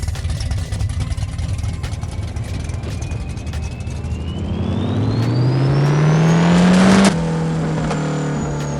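Drag car engine in No Limit Drag Racing 2.0, idling low then revving steadily higher in a rising whine before launching hard near the end, loud and close with no talking.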